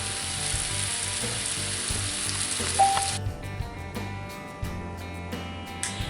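Zucchini and onions sizzle and get tossed in a cast iron pan, a loud steady frying hiss that drops sharply partway through after a clattering toss, with a few scraping knocks afterward.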